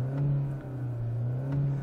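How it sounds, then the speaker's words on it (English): The engine of a 2022 Hyundai Elantra N-Line hums at a steady moderate pitch, with slight swells in revs, heard close and alone over a short stretch. "It's almost like Hyundai made the engine a little bit less throaty for the N line"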